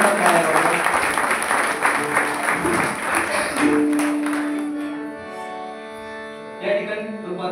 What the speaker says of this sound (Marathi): म्हणून एकदा या प्रामाणिकपणासाठी जोरात टाळ्या वाजवा